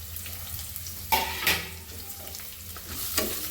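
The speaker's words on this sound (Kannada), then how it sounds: "ಈಗ ಎಣ್ಣೆ ಕಾದಿದೆ ಪಲಾವ್ ಎಲೆ ಈರುಳ್ಳಿ ಹಾಕ್ತಾಯಿದ್ದೀನಿ" Onion and bay leaf dropped into hot oil for vegetable pulao, sizzling and frying steadily at close range, with a sharper burst as the ingredients hit the pan and brief scraping stirs.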